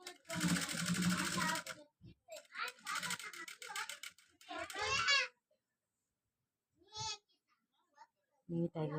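A sewing machine stitches blouse lining cloth in quick, steady runs that start and stop, with a person talking between and over the bursts at close range.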